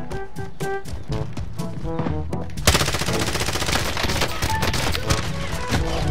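Rapid pistol gunfire in a first-person shooter, loud bursts of shots that grow denser and harsher midway, with game sound effects layered throughout and no talk.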